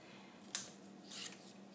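A paper trimmer slices through a branding strip with one quick, crisp cut, followed by a faint sliding rasp, quiet and close in a calm room.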